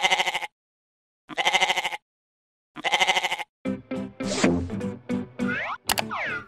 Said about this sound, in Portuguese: A cabra gosta de comer grama. Vamos ouvir o som que a cabra faz.